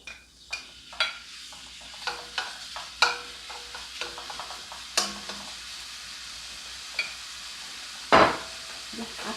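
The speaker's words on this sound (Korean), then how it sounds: "이렇게 했을 때 이제 지글지글 하죠? 그래서 고기를 넣어주세요." Pork chop frying in a pan while being cooked as Korean pork chop steak, a steady soft sizzle broken by repeated clinks and scrapes of stirring or turning, with a louder sputtering burst near the end.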